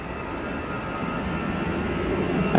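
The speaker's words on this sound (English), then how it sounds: "EasyJet A320 on departure" An EasyJet Airbus A320 departing Manchester gives a steady, broad jet roar that swells slightly toward the end, heard alone without talk.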